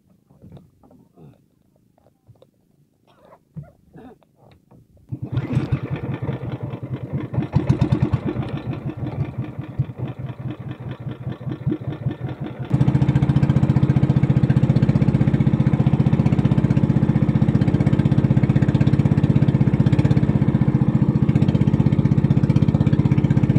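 A boat engine sputters in the quiet with a few faint sounds nearby, catches into an uneven, loud chugging, then settles into a steady, close, heavy drone that fills the rest.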